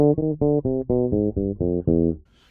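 A short run of plucked bass notes moves downward in a smooth, swinging jazz line, close and clear, ending on a held note with no talking.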